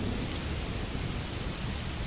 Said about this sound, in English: the rain finally softened, transitioning from a steady drizzle to an intermittent, almost hesitant whisper